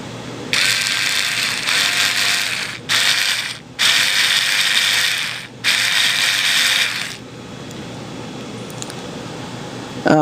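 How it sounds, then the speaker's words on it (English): Ratcheting screwdriver turning a screw into a Dayan Zhanchi speed cube during a mod, with three long bursts of dense rapid clicking separated by short pauses, close and fairly loud, then quiet. "screw it in until you barely see any of the thread"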